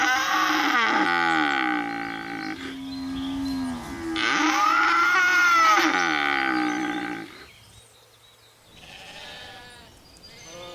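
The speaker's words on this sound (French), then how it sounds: "ils auront vu des vaches et des moutons" Cows and sheep at a farm, heard as loud, drawn-out bleats and lowing calls, several in sequence, close and clear with no talk, fading quieter toward the end.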